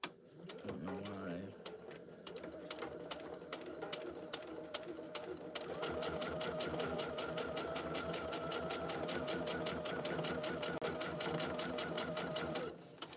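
A sewing machine runs up close, starting with a few short stitching bursts before settling into a long, steady, rapid mechanical chatter that stops abruptly near the end, with a voice speaking briefly over it.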